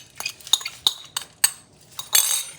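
A utensil clinks against a bowl as sushi rice is mixed with rice vinegar and sugar, with a series of sharp, close metallic taps in an uneven rhythm and no talking.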